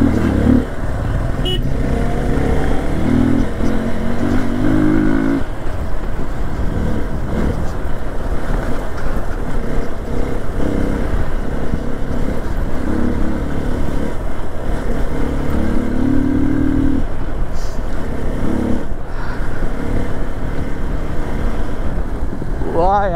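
Motorcycle engine, an X Pulse or Himalayan off-road bike, droning steadily and loud while riding a mountain road in Himachal Pradesh, with someone talking over the engine throughout.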